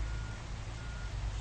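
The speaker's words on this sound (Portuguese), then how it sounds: "Tô virando o caminhão, ó" Reversing beeps from a truck turning in Truckers of Europe 3, pulsing in a steady rhythm over a constant low engine rumble, heard alone without talk.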